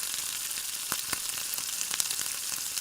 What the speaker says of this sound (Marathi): आलं लसूणची पेस्ट देखील ही ॲड करा यामध्ये त्यानंतर व्यवस्थित सर्व खडे मसाले ॲड करा